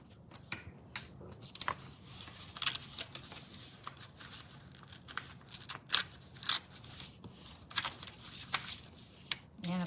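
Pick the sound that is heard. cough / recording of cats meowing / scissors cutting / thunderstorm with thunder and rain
scissors cutting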